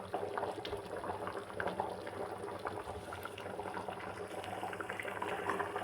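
A pot of aubergine and potato sambar bubbles and simmers steadily, a soft continuous gurgling boil with faint popping, quiet and close, with no voices.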